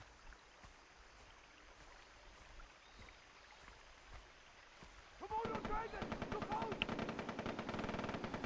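Rapid automatic gunfire from a Far Cry 3 firefight erupts after a quiet, faintly ambient stretch, loud dense bursts with sharp repeated cracks filling the second half, with voices under the gameplay.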